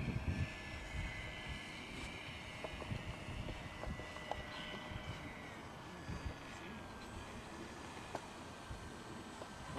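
Engine of a Firefly 2 autogyro humming and whining as it prepares to land, heard from a distance under wind buffeting, with voices speaking nearby.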